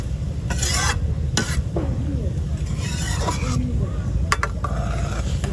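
Spice paste with water sizzles in a pan over a rustic village fire, cooked down before fish goes in. Steady close frying hiss runs throughout with occasional stirring scrapes, and a voice speaks faintly now and then.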